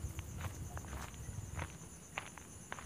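Footsteps advance along a muddy path soaked by several days of rain near a hill, soft irregular steps over steady low background noise with faint insect-like chirps.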